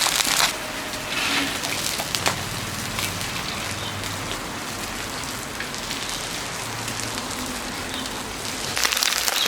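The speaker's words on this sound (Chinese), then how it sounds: "煎鱼啊，一定要耐心，太急了的话就碎了" Small wild-caught river fish pan-fry in a wok, producing a dense, steady crackling sizzle like rain, louder in short bursts at the start and end.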